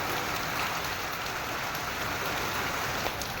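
Heavy monsoon rain pours down in a village, a dense, steady hiss of drops drumming on surfaces, close and unbroken, with no one talking.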